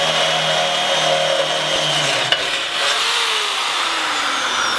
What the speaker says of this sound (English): Something else to keep in mind when you are drilling through metal is that you should be using a lubricant.